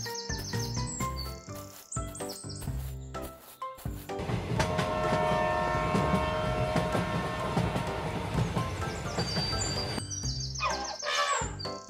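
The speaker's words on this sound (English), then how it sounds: "Guys, get on the train." A cartoon train carries dinosaurs along with a loud, steady rolling rumble and clatter through the middle, while short bright chirpy cartoon sounds come before and after it.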